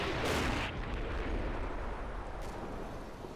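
In Combat Mission: Battle for Normandy, gunfire from houses booms out as a heavy blast and then a rolling, rumbling battle din that slowly fades, with a faint crack near the end and no talk.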